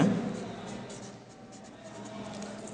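Faint pen or pencil strokes scratch steadily across paper while someone writes out a math solution, close and quiet, with light shuffling in between.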